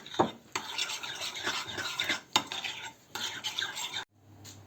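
A spoon stirs a pizza mixture with grated garlic in a bowl, making close, quiet clinks and scrapes in irregular bursts, then a short pause near the end.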